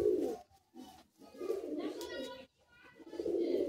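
Kolkata high-flying Madrasi pigeons cooing in a loft, soft low coos repeating in several bursts with short pauses, close by, with faint background voices.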